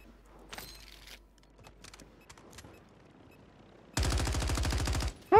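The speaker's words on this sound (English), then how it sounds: "I don't even know why I'm shooting that." Automatic gunfire in the shooter game Warzone 3 erupts as a single loud, rapid burst lasting just over a second, after several seconds of faint background ambience.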